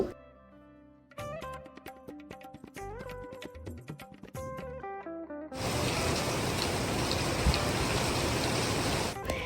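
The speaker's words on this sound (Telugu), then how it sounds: "ఇక సాయంత్రం అయ్యేసరికి వర్షం అలా పడుతూనే ఉంది" Rain pours steadily onto a balcony garden, a dense, even hiss that begins partway through after a stretch of music and continues loud and unbroken to the end.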